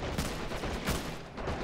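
Rapid, loud bursts of overlapping gunfire and rifle shots crackle close by in a Men of War battle with the Helghast mod, with no break in the shooting.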